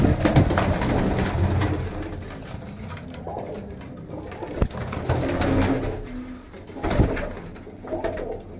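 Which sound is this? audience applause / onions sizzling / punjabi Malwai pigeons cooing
punjabi Malwai pigeons cooing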